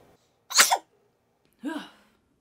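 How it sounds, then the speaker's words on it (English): Two separate sneezes, close by, each a sharp burst with a short gap of quiet between them; the second is a little softer. "I feel like I have to sneeze."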